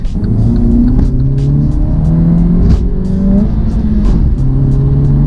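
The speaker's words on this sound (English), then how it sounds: "the engine note, it's a four cylinder, but it still sounds fantastic." A 2019 Mini Cooper S four-cylinder engine revs up and down repeatedly on a proving ground, loud and close, with rising and falling pitch between gear changes.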